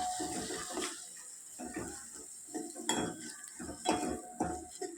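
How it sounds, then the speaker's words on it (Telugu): A ground spice paste is fried and stirred into a tempering for tomato rasam, heard as soft scraping and clinking of a utensil against the pan in uneven strokes with a faint sizzle beneath, close but quiet. "కొద్దిగా ఈ పచ్చివాసన పోయేంత వరకు లైట్గా వేయించుకోవాలండి."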